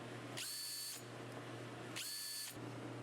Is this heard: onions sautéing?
no